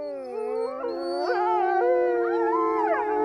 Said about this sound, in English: The howl can be heard by other wolves over 6 miles away and also acts as a warning signal to rival packs to stay away.